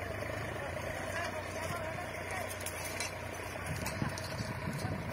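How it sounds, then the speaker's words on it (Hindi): A new Solis Yanmar tractor pulling a 3MB reversible plough runs steadily in a field, a low continuous diesel engine drone heard faint and somewhat distant throughout. "तो इस तरीके से कैसे चल रहा है हमारा ट्रैक्टर।"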